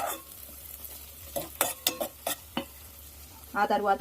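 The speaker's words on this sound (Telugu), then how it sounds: "మిరపకాయలు అయితే మంచిగా వేగుతున్నాయి చూడండి, మంచిగా వేగినాయి కదా" Green chillies fry in hot oil for a curry, with a low steady sizzle under several sharp stirring scrapes and clinks in the pan, and a short burst of bubbling louder frying near the end; a few words are spoken.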